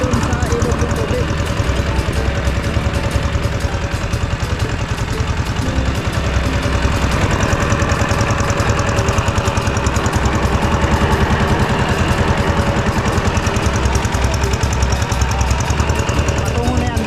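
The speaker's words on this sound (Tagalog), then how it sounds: "Pinaka motor pump. Nagaling doon sa ilog ng tubig." A motor-driven water pump runs steadily, drawing water up from a river for a vegetable garden; a loud, continuous mid-pitched engine drone with a constant rhythmic chug holds throughout at close range.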